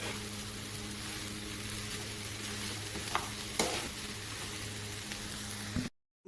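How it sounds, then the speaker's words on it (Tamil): Fried rice stirred in a hot frying pan, a steady close sizzle with scraping spoon strokes and a couple of sharper knocks, continuous for about six seconds before cutting off. "ஒரு கையில் சாதத்தை கிண்டிக்கிட்டு இருக்கிறேன்"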